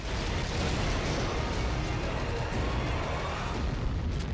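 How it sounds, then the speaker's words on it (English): Dense, continuous roar of massive explosions from a Just Cause 3 trailer, a loud broadband rumble with no breaks and no speech. "One massive explosion at a time."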